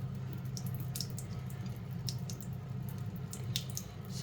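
A snake plant cutting is rinsed under water, giving a soft, steady trickle with scattered drips and light splashes close by, over a low hum, with no talking.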